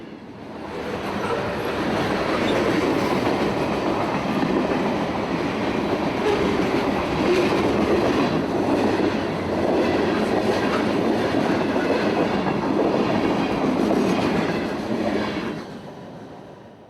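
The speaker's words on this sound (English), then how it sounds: "E092, an empty coal train out of Indiantown, Florida" A long, empty coal freight train rumbles steadily past up close in fog in North Florida, wheels clacking over rail joints, swelling in and fading out at the ends.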